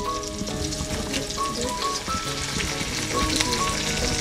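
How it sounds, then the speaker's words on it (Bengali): Garlic and dried chili sizzle and crackle steadily in hot oil for a tempering, a dense close frying hiss with scattered pops and no voices over it. "রান্নার ভিতরে একটু ভালো ফ্লেভার এবং অ্যারোমা আসার জন্য এই ফোড়নটা দেওয়া হয়, রসুন এবং এটার সাথে শুকনো মরিচ"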